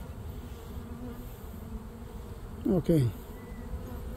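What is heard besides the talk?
honey bee swarm buzzing around a trap box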